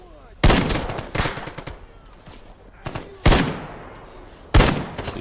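Type 63 automatic SKS rifle gunfire in Stalker GAMMA, loud sharp bursts of shots at irregular intervals, each ringing off with a decaying tail, with quieter shots between.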